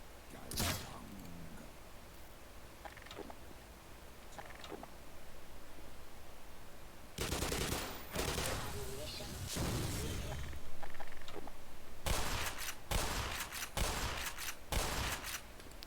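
Bursts of gunfire from the Half-Life Xen Beta video game, scattered early shots and then dense clustered volleys in the second half over steady game ambience.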